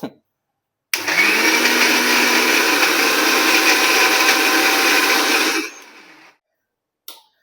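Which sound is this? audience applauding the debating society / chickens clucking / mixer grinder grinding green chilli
mixer grinder grinding green chilli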